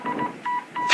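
Telephone dialing tones in a bank advertisement, three crisp keypad beeps in quick succession followed by a brief hiss, close and clear, with no voices.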